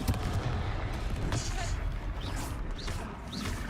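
A Confringo fire spell in Hogwarts Legacy fires off amid a busy battle, with rapid booming blasts, crackles and whooshing impacts over constant rumbling combat noise.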